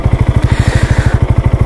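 A Keeyway Superlight motorcycle engine runs steadily at low speed, its loud, close, regular thumping pulses repeating evenly with no voices over them.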